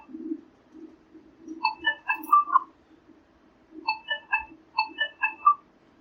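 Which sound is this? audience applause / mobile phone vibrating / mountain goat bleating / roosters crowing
mobile phone vibrating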